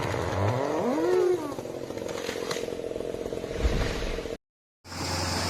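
A Multitech 2040 XP90 chainsaw with an orange body and a long blade cuts through a big tree, its engine whining and rising in pitch, loud and close, before a short silence and a resumed buzz.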